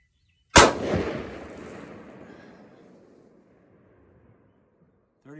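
A single loud rifle shot from a Remington 660 with a 23-inch Pachnor barrel chambered in 6.5 Rem Mag, a sharp crack followed by a long rolling echo that fades over several seconds outdoors.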